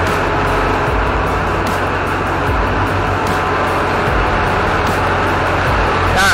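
A 2002 Duramax diesel pickup with a failing pump runs with a loud, steady, droning mechanical roar close by, constant throughout with no talk.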